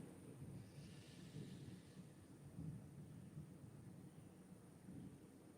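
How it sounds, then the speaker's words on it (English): Low, steady thunder rumbling outdoors in the distance through a continuous broadband wash, swelling slightly in places without sharp cracks, with no one speaking. "Y'all can probably hear the thunder in the background."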